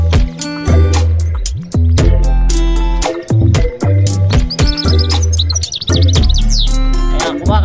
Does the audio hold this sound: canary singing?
yes